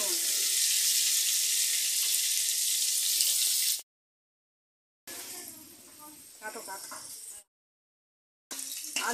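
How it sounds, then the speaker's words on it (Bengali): Potatoes dusted with turmeric and salt frying in hot oil for a mutton curry, a loud steady sizzle that cuts out twice, with softer crackling and a voice talking in between. "এবার আমি আলুগুলো ভেজে নেব"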